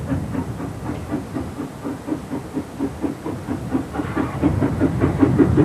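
A Pichi Richi Railway steam train rolls along at a leisurely pace, its rhythmic chuffing and steady clatter of wheels growing louder and closer toward the end, with a hissing undertone and no talk.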